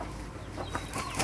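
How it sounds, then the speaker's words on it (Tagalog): Newly arrived chickens cluck in a brief, faint burst of soft clucks against a noisy background. "15 lahat yung manok na dumating dito."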